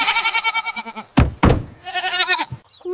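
A goat bleats in a long wavering cry, then two sharp knocks follow, then a second quavering bleat, close and loud.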